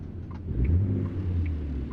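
A heavy truck's engine in American Truck Simulator revs during a botched gear shift, a loud, steady low rumble that swells briefly, with faint higher tones over it.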